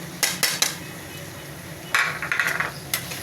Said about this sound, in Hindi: टमाटर डाल के मिक्स करेंगे